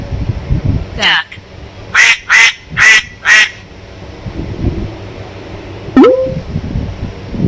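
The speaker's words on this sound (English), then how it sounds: "Duck." A duck quacks loudly four times in a steady rhythm, preceded by a brief call and followed by a rising tone, over a low rumbling background.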